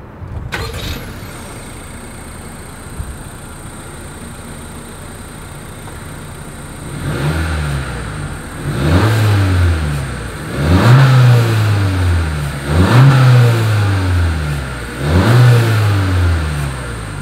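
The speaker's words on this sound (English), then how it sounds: "As always, here is that exhaust clip." A 2020 Honda CR-V engine idles, then revs repeatedly through the exhaust in several loud bursts, each rising and falling, close by with no talking.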